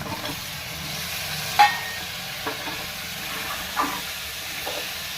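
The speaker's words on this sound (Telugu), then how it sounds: "ఇవన్నీ వేసి కొద్దిగా బాగా ఒక 10 నిమిషాలు వేగనీయండి." Mutton trotters fry in a pan with turmeric, giving a steady soft sizzle and hiss with a few brief stirring clinks and scrapes, no voices.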